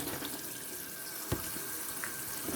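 Tap water runs steadily into a kitchen sink while chickpeas are rinsed beneath it, a constant close rushing hiss with a couple of brief clunks near the middle and no talking.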